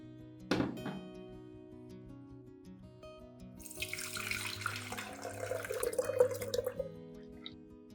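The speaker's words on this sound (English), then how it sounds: "I water the orchids at the base." Water infused with potato peels pours gently from a container at the base of orchids, splashing softly onto soil and leaves, a close, quiet trickle that swells in the middle before easing off.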